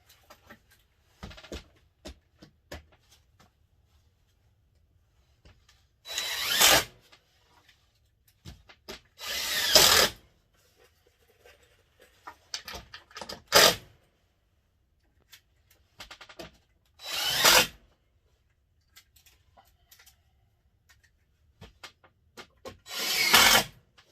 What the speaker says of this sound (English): Put a couple screws in there.